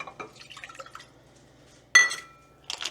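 One cup of water is poured into a saucepan, giving faint trickles and drips, then a sharper splash partway through and another burst of liquid sound at the end.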